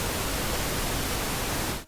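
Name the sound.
pink noise from an Ableton Live plugin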